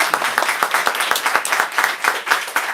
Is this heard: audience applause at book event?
yes